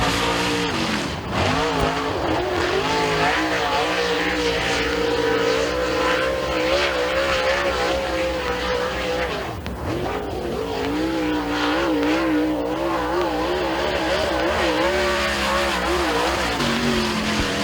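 A super late model race car runs a qualifying lap at Thunder Mountain Speedway, its engine roaring loud and steady throughout with rising and falling pitch as it powers through the turns, no talk over it.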